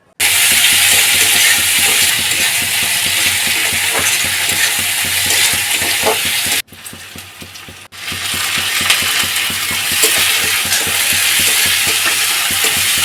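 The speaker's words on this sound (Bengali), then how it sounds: "রসুনটা পেস্ট করে নেব, নিয়ে ওই গরম পেঁয়াজের মধ্যে দিয়ে দেবো।" Garlic paste and onions frying in a wok, a loud, steady dense sizzle with scraping and stirring clatter throughout, briefly dropping lower in the middle before resuming.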